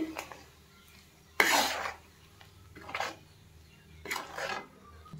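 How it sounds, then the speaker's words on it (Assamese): A spoon scrapes and stirs chili powder through mango pickle in a hot oiled pan, with three separate rasping bursts of stirring and quiet pauses between them. "এতিয়া লৰাই দিওঁ ধুনীয়াকৈ"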